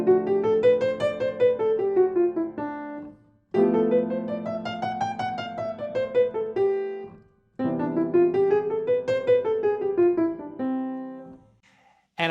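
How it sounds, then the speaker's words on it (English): A jazz piano plays a ii-V-I bebop scale line in eighth notes, three clear repeated phrases of rising and falling runs over held chords, separated by short pauses, solo with no talking. "So 2 minor to 5-7 to 1 would sound more like this."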